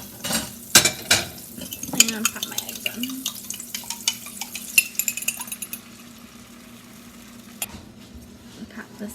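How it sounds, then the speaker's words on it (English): Eggs go into a pan of butter and onions on the stove. A utensil clinks and scrapes against the pan in a burst of sharp knocks, followed by quieter stirring and soft sizzling. "And pop my eggs in."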